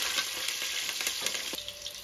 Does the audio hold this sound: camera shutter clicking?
no